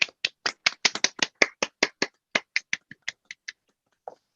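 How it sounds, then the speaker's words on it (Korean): Hands clap to welcome a speaker at a mission lecture: about seventeen crisp, separate claps come quickly and evenly, then thin out, with one faint clap after a short pause. "박수로 환영하겠습니다."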